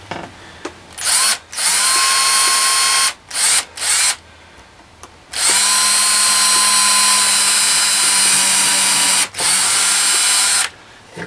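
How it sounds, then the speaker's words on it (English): Cordless drill boring pilot holes for shelf screws, several sustained high whining bursts with pauses between, the longest run lasting about four seconds, loud and close. "drill some pilot holes"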